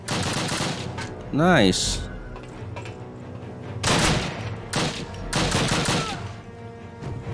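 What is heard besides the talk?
gunfire in the Call of Duty video game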